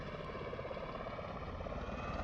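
An MV-22 Osprey tiltrotor in Microsoft Flight Simulator 2020 gives off a steady, loud engine and rotor drone that holds evenly throughout.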